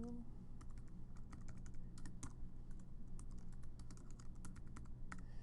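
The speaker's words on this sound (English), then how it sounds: "I'm going to type in here" Computer keyboard typing comes in quick, light, irregular key clicks over a low steady hum, quiet and close, with no talking.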